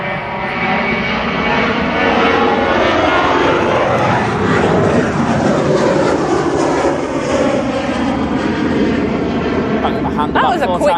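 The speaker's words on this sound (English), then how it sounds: "We've got a Ryanair going off" A Ryanair jet takes off from East Midlands Airport, a loud, sustained engine roar with shifting tones as it climbs away, while people talk over it.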